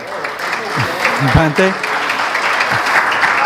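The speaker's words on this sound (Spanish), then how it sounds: "yo quiero un aplauso a" Applause from an audience at a business gathering on digital transformation, a broad steady patter of clapping across the whole stretch with a voice speaking briefly over it.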